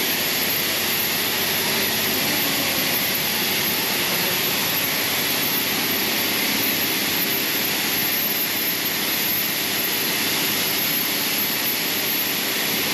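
A train more than a hundred years old runs with a loud, steady engine roar and a high whine, unbroken and close.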